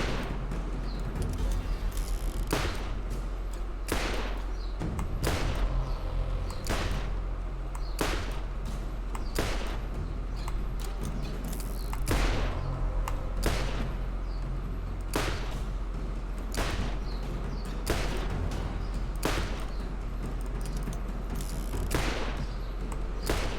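Repeated gunshots from a critical-bonus gun in Borderlands, sharp cracks fired at an irregular pace across the whole span over a steady game background, with no talking.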